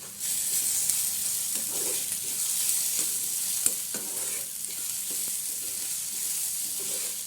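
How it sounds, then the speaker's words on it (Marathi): Ginger garlic paste sizzles with browned onion in a hot pan, a constant bright hiss with spatula stirs and scrapes and one sharp tap midway, with no talking. "त्याच्यामध्ये मी आलं लसूण पेस्ट टाकून देते."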